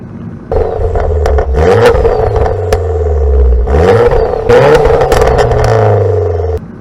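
A stage 2 tuned Vauxhall Corsa E VXR with stage 1 map, air intake and decat exhaust, revving loudly in two rising surges with rough exhaust drone and brief dips between pulls.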